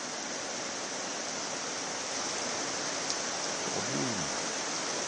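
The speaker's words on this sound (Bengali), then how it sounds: "বৃষ্টির পরিমাণটা যথেষ্ট আছে আমি দেখতে পাচ্ছি" Heavy rain pours down outdoors in Barrackpore during a street news report, a steady, dense hiss that holds evenly throughout, with no voices.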